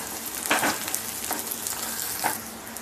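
Onion and green chili frying in a pan give a steady, close sizzle throughout, with a few brief scraping stir sounds rising above the constant hiss.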